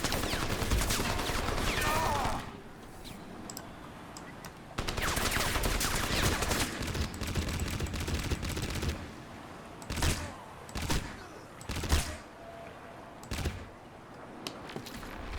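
Rapid bursts of gunfire in Crysis strike a liquid-filled object, with long sustained volleys early on followed by several short, separate bursts, loud and close.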